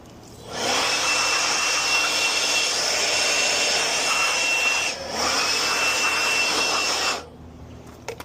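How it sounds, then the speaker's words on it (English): A compressed air blast blows dirt out of an HVAC unit in one loud, steady hiss lasting several seconds, broken by a brief dip midway, then cutting off abruptly. "Blow all that out of there."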